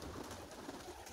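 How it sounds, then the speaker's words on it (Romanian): Pigeons coo softly in a short burst of low, throaty calls, faint and steady with no talk over them. "O fi venit aici ca mulți porumbei, cred că s-au auzit pe imagine"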